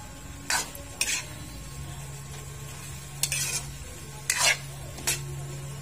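Vegetables stir-fried for pancit canton in a pan, a steady low sizzle running underneath while a utensil scrapes and clatters against the pan in several short bursts, close and with no voices.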